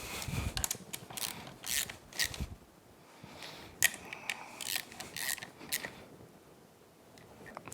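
A ratchet snugs down bolts on a Yamaha F225 outboard powerhead during a rebuild, making quiet bursts of rapid clicking with brief pauses and small metallic knocks, up close and faint.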